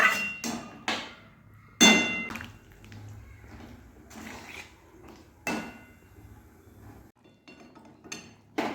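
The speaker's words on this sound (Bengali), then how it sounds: "আর শিলে পোস্ত বাটছি, পোস্ত করব।" Poppy seeds being ground on a stone slab, a series of sharp knocking thuds and clinks at irregular intervals between quieter scraping, close with no talking.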